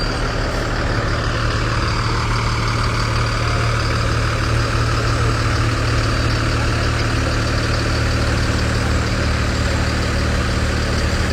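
The Wellston Fire Department's engine 1905 idles during a festival grand finale parade in Ohio, a steady, loud diesel rumble close by, continuous throughout with no talking.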